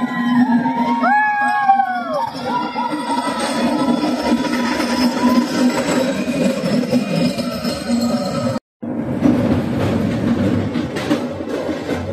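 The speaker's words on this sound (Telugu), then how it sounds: "ట్రైన్లో ఉండే జనాలతో అరుపులు, కేకలు, విజిల్స్తో ట్రైన్ అంతా హోరెత్తిపోతుంది" Passengers on a scenic hill train through tunnels shout, scream and whistle continuously over the steady rumble of the carriages, with several rising whistles near the start and a brief drop to silence before the loud din resumes.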